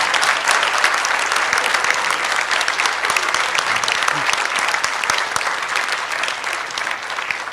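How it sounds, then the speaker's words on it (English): A large audience at an Asia Society talk by Aung San Suu Kyi claps steadily and loudly throughout, a dense, continuous wash of applause with no break. "Who wanted to applaud?"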